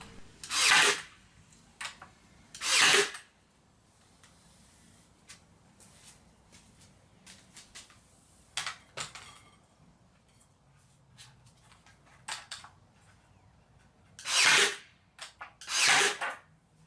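A power drill drives screws through wooden planks into legs, heard as several short, loud whirring bursts separated by quiet gaps and faint handling noise, with no speech.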